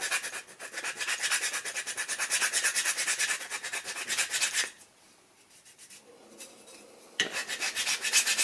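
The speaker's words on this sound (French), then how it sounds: "Avec un couteau, c'est-à-dire de le râper pour décoller, parce que ça reste un peu mou." A knife blade scrapes rapidly back and forth across a slightly soft plastic seat back, a close, raspy rubbing in quick strokes, stopping for about two seconds before resuming.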